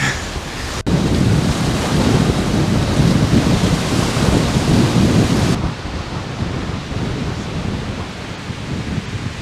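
Waves crash with a loud, continuous roar heard from an open deck, with heavy wind buffeting the microphone before the surge eases to a lower, steady rush.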